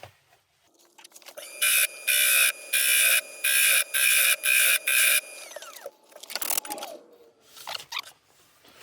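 A wood lathe turning a bowl with a resin edge, a tool making repeated smoothing passes: loud, steady bursts of high cutting noise about half a second each, separated by short gaps, then quieter scraping and handling.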